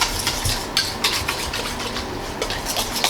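Evaporated milk being stirred into soupy pumpkin pie filling, a steady clatter of a utensil scraping and knocking against the bowl with quick rhythmic strokes, close up and without talk.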